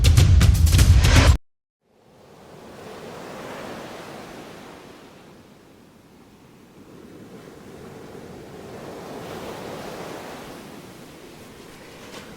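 Sea waves surging and breaking on a beach at Cefani in East London, a steady washing roar with gusty wind buffeting the microphone, following a brief loud burst at the start.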